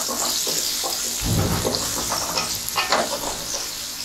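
Chopped green chilies, garlic and onion fry lightly in a pan, a steady sizzle with a few stirring scrapes and a soft knock near the start, close and alone.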